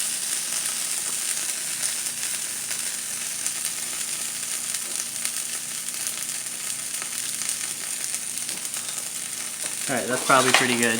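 Eggs fry on a stovetop at medium-high heat, with a steady, dense sizzle and crackle throughout, close and clear; near the end someone speaks briefly over it as faint utensil clatter joins.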